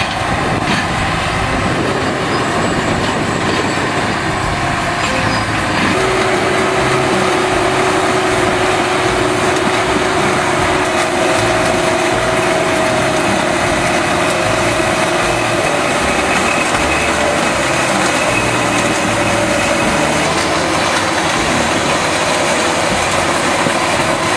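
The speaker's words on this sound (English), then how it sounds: "The powerful sound of the crushing process echoes continuously" Heavy machinery crushing material, a loud, continuous industrial grinding and mechanical roar with a high engine whine running steadily throughout, no voices.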